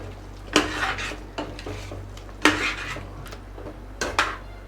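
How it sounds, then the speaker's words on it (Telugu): Ground tomato paste going into mutton curry cooking in a pot, heard as three sharp metallic scrapes and clanks of a spoon against the pot, each trailing into softer stirring noise, with no talking. "మటన్ బాగా ఉడుకుతున్నప్పుడు ఇందులోకి గ్రైండ్ చేసి పెట్టుకున్న టమాటా పేస్ట్ని వేస్తున్నాం"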